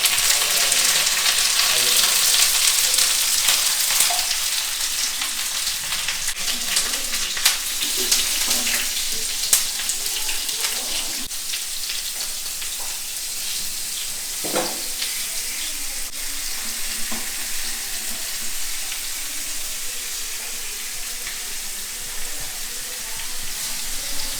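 Curry leaves dropped into hot coconut oil give a loud, steady sizzle with scattered crackles and pops that continues close up for the whole stretch, with no voices.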